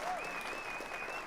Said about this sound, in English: we'll give him another round of applause